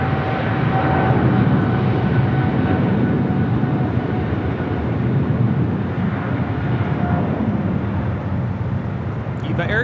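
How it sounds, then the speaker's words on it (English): An EVA Air Cargo Boeing 777 freighter takes off at LAX, a steady, loud broadband engine roar holding throughout with thin tonal whines on top, and faint airport radio talk mixed in. "EVA Air Cargo 621 taking off to Taipei on the 777 freighter."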